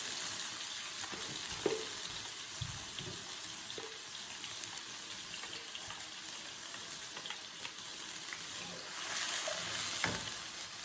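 A ground spice paste for sate padang being stirred in a hot pan gives a quiet, steady hiss of frying with occasional soft scrapes of a spoon, fairly faint and without speech.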